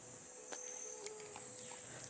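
Crickets and grasshoppers in the Amazon jungle canopy chirp in a steady high-pitched drone, with a few sharper insect clicks standing out now and then, fairly faint and unbroken by any voices.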